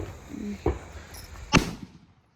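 Firecrackers bursting outdoors at a Dev Diwali celebration, with two sharp, loud pops about a second apart over a faint background and insect chirps.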